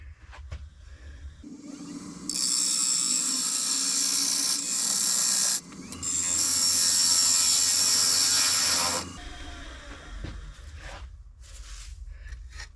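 A woodturning tool cuts into a spinning wooden bowl on a lathe, exposing a center dovetail, in two long, loud, harsh scraping passes separated by a brief pause, with quieter tool sounds before and after.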